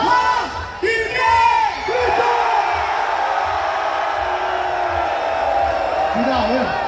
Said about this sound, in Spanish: quiero que ustedes dos hagan que todos los hombres que están aquí griten más que las mujeres